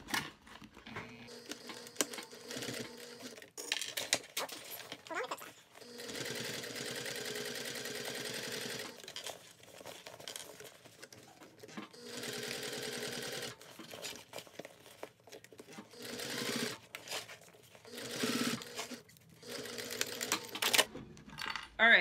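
Sewing machine stitching a cork bag, quick rapid-fire needle runs in several bursts separated by short pauses and handling noises, fairly quiet and close.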